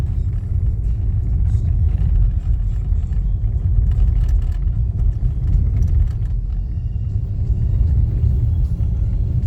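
Car interior on a slippery winter road in Finland: a loud, steady low engine and tyre rumble with faint bumps and rattles throughout, no voices.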